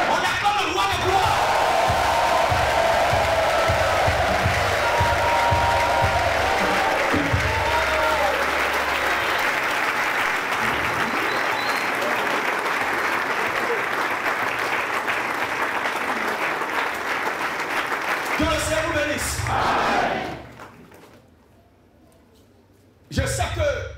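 A church congregation at a temple inauguration service claps loudly and cheers for about twenty seconds, a dense roar of hands and voices, before it cuts to near silence and then a brief burst returns.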